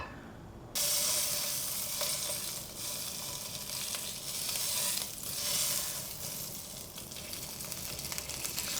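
Thick meat hits a pan heated over high flame and sizzles loudly, a constant crackling hiss as its fat renders out, going on steadily without pause.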